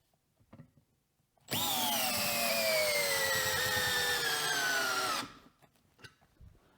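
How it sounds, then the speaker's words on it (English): A DeWalt DCD710 12-volt cordless drill runs under load for about four seconds, a loud, steady whine with a slowly falling pitch that starts and stops abruptly, with faint handling noises before and after. "This is the 12 volt DCD 710."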